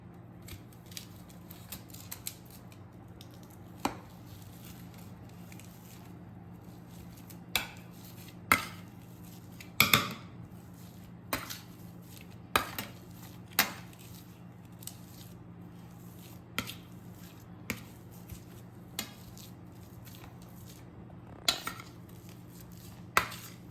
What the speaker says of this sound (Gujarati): ત્યારબાદ તેને એક મેસર વડે બટાકા મેશ કરી લઈશું